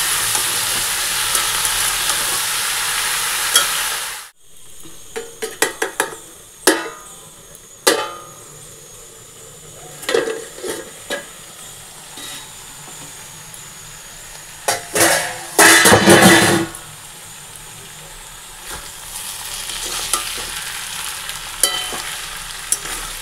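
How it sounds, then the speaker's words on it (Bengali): Cooked lentil dal being tempered with spices in hot oil gives a steady sizzle and crackle. Sharp bursts and stirring clatter come and go, with a loud spitting flare around the middle, and nobody speaks. "এখন ডালটাকে এখন ফোড়ন দিতে হবে।"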